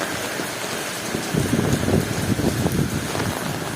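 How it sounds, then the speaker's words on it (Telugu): Rain falls steadily in Hyderabad, a constant hiss of drops on surfaces with a brief patch of heavier splashing and pattering midway, close and fairly loud, no talking. "హైదరాబాద్లో వర్షం"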